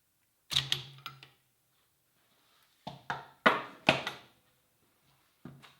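Tightening a nut during clutch-side assembly of a 1997 Honda XR100: a few close, sharp metallic clicks and taps in short clusters, separated by quiet gaps.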